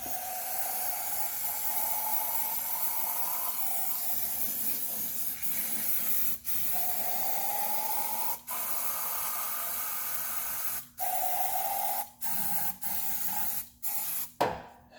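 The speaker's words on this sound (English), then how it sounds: "fill her up with some more brake clean" Brake cleaner spray hissing into engine holes during valve cover gasket and crankshaft seal work on a 2003 Toyota Corolla, long steady bursts broken by short pauses, close and alone.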